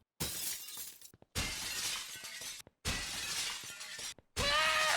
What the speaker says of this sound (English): now the sound of glass breaking has a different pitch depending on the size of the pane